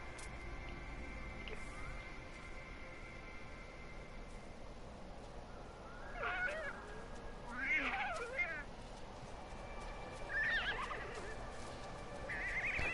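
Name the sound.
alien creature calls in video game No Man's Sky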